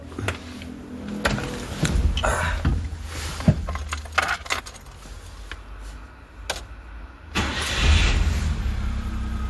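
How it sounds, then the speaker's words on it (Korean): A New Labo small truck engine cranks over and catches, then settles into a steady mid-pitched idle, with a few sharp clicks and key or switch noises close by and no talking. "차량 엔진 한번 걸어 보도록 하겠습니다"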